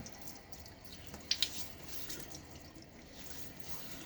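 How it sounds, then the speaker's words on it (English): Water splashed onto a face before lathering up for a wet shave with hard, lukewarm water; soft dripping and trickling with two brief sharp splashes near the middle, close and fairly quiet, no talking. "a little more water on my face before we lather up"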